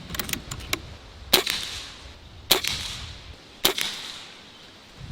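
Barra 1100z Gen II airgun firing pellets: three sharp, fairly loud cracks spaced roughly a second apart, each with a short snappy tail, with a few faint clicks from loading at the start and quiet between shots.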